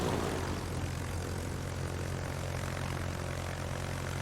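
Propeller aircraft engines drone in a steady, even hum over low rumble in a World of Warships naval battle, continuous and moderately loud with no voices.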